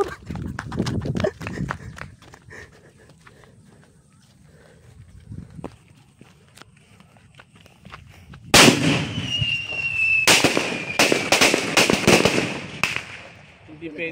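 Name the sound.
Phoenix Thunder 200-round fireworks cake exploding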